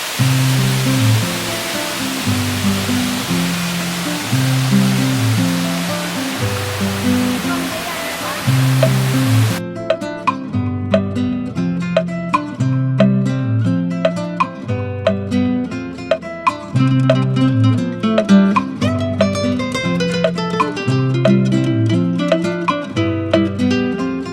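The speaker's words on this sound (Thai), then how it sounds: "น้ำตกเอราวัณ" Erawan waterfall in Kanchanaburi, Thailand, roars loud and steady with rushing water throughout, and music begins partway through over the continuing water noise.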